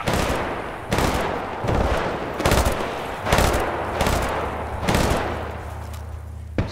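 Rapid bursts of gunfire from the video game Battlefield Bad Company 2, loud repeated volleys with short pauses between them and a low rumble underneath.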